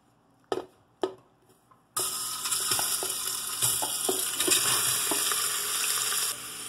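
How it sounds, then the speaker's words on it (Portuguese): Meat fries in oil inside a pressure cooker, a steady close sizzle and crackle that starts abruptly after a few sharp knocks and continues evenly, with no talking. "vou colocar óleo aqui na panela de pressão e fritar um pouco essa carne"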